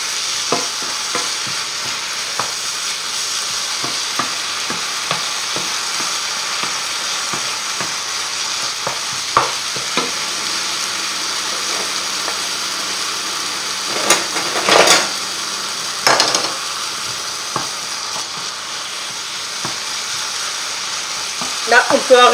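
Eggplant slices frying in a pan for lasagna, a constant close sizzle under scattered scraping and stirring clicks, with a few louder clatters and bursts of utensil noise toward the end.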